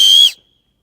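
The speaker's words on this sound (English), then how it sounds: "And then Will also made a whistle." A single short, shrill blast on a 3D-printed plastic whistle, loud and close, cutting off sharply after about a third of a second into silence.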